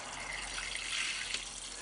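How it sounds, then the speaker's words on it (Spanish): Water is poured gently onto a freshly planted squash or green bean seedling, giving a soft, steady hissing trickle that runs for a couple of seconds with no talk. "Voy a regarla un poco."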